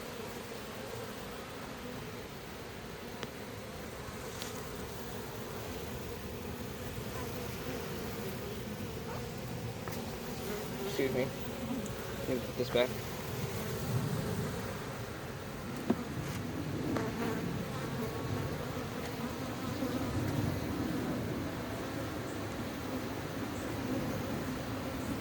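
Honey bees hum steadily around an open beehive in May, a soft, dense buzz close by with a few brief bumps and handling noises, while a person speaks briefly in the middle.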